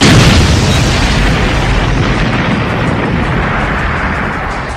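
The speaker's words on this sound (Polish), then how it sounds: "muszę wysadzić tą jebaną szkołę." A loud, heavy explosion of a school blown up in a video game booms at once and rumbles on, a broad roar that slowly fades over several seconds with no voices.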